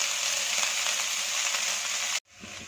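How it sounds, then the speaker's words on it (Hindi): Food sizzles and crackles steadily in a hot pan while frying to a light golden color for chicken pasta, then the sound cuts off abruptly near the end, leaving only a faint softer hiss. "लाइट गोल्डन कलर आने तक इसे फ्राई कर लेंगे।"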